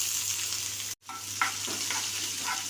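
Onions sautéing in hot oil with mustard seeds and green chillies give a steady close sizzle, a brief silence partway, then faint scraping stirs return.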